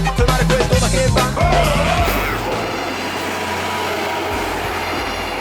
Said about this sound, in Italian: Sempre bello il treno.